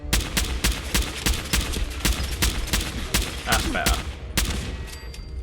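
A light assault rifle fires in Fallout 4, a dozen or so close, crisp shots in a quick, fairly even rhythm, with a brief spoken remark in between.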